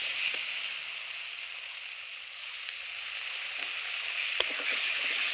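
Spice paste frying in oil in a pan for a taro and potato curry, with water splashed in: a steady bright sizzle that rises and crackles, with a small clatter near the end and no talk.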